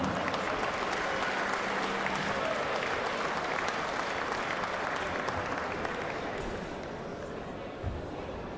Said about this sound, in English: a round of applause for our fourth referee here this afternoon from the Netherlands, Marco Meyer.